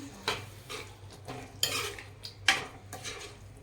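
A spoon stirs thick chole gravy in a metal pot, making close, irregular scrapes and clinks against the sides, with a few sharper knocks between softer stirring sounds.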